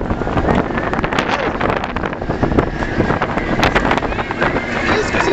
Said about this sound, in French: il y a un putain de vent, ça c'est chiant